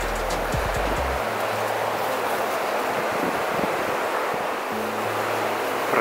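A river flows beside an overgrown path near the abandoned Orava ferroalloy works in Istebné, giving a constant broad rushing hiss with a low rumble that comes and goes.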